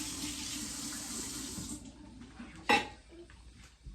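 Water runs steadily from a kitchen faucet into a sink, a broad hiss that cuts off partway through, followed by a brief clatter and quieter room sounds.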